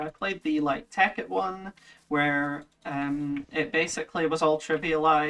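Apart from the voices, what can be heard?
No everyday noise stands out behind the speech.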